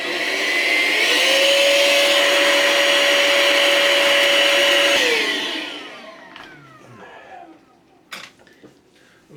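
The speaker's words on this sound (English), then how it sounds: "Just don't put the hoover on it." A vacuum cleaner runs loudly and steadily near an Amiga 500 Plus computer, its motor pitch rising at start-up and winding down after about five seconds, followed by faint handling clicks.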